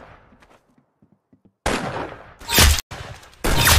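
Video game gunfire arrives after a quiet stretch with a few faint clicks: loud, dense bursts of rapid shots, then a brief gap, then another heavy volley, close and punchy.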